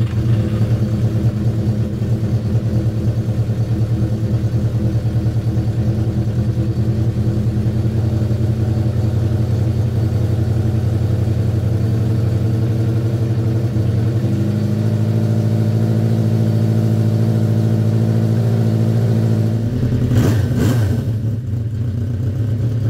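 A Honda CB400F motorcycle, a 46-year-old bike left sitting, runs on choke on a cold morning with a steady, loud idle close by, the engine note shifting slightly higher partway through before a brief burst of revving near the end.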